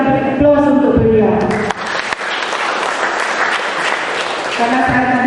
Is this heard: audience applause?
yes